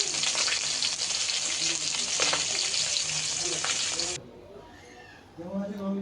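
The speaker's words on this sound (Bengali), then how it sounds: "এখন আমি বাকি মাছের পিসগুলো ভেজে নেব" Fish pieces frying in hot oil in a pan, a loud, dense sizzle close by for about four seconds that then cuts off, followed by quieter kitchen sounds.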